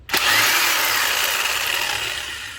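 An impact wrench loosens a rusty wheel nut during a tire rotation, giving one loud, continuous burst of buzzing power-tool noise that fades slightly toward the end.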